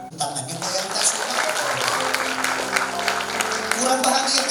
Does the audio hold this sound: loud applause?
yes